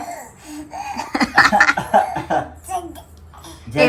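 A child imitates an uncle's cough with a burst of several forced coughs mixed with giggling and laughter, close and loud, between short bits of talk.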